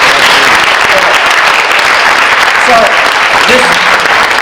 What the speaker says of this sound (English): we'll just clap one more time